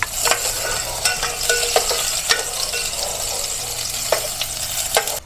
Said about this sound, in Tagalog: Ay, bawang. Ayan, bawang muna pala. Isunod natin ang ating sibuyas.